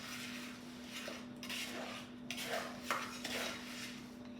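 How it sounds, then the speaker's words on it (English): A spoon scrapes and clinks against a bowl while biscuit crumbs are stirred into melted butter for a blackberry cheesecake base, a series of soft, fairly quiet strokes and taps with a steady hum behind them. "Make sure all of the biscuit gets mixed with the butter, not just a little bit."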